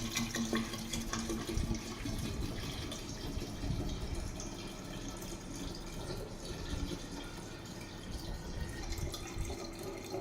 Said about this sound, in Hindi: इसके अंदर आपको 0 TDS वाटर को फिल करना है